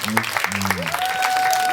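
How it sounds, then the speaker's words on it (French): Wedding guests clap during a French-language ceremony, a crowd's applause running beneath a voice and a sustained tone, building slightly louder toward the end. "On l'applaudit s'il vous plaît."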